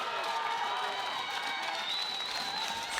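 Home crowd in Sauda cheering and applauding a weightlifter as he steps onto the platform, a dense, steady wash of clapping and voices throughout, loud and sustained.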